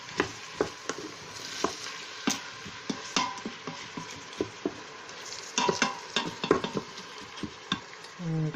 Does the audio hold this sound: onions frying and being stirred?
yes